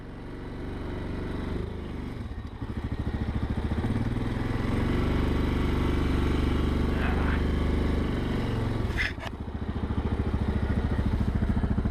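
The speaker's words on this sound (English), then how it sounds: "Let the winch do the work" An ATV winch runs steadily under a loud, continuous motor drone with clattering texture, straining for several seconds before a brief drop and restart near the end.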